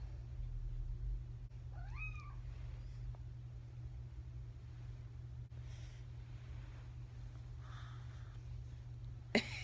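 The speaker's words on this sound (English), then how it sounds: "My Layla constantly meowing" A house cat gives one clear rising-and-falling meow near the start over a steady low household hum, followed by softer rustles and a brief click near the end.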